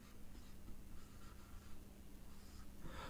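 Faint, scratchy strokes of someone writing on a board during a Class 9 maths lesson, quiet and close, with no speech.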